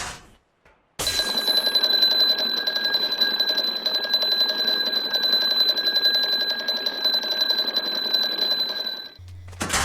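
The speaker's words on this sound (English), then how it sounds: "the dodo will rage on them, walk through the tripwire, and notify the whole tribe that it's gone off." A tripwire alarm in Ark Survival Evolved goes off, a loud, steady electronic ringing tone that starts abruptly and holds unbroken for about nine seconds before cutting off.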